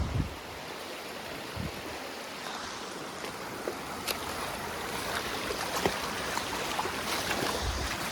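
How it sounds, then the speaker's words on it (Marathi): A waterfall at a Maharashtra dam site pours in a constant hissing roar, steady and moderately loud, with a few faint knocks and clicks. "भारी धबधबा आहे"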